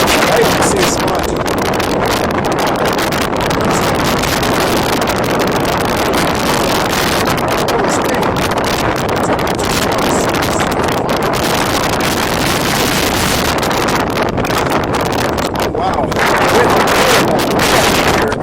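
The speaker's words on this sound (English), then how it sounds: "The wind's blowing like crazy." Strong wind blows outdoors at a wildlife refuge, a loud, steady roar of gusts buffeting the microphone for the whole stretch.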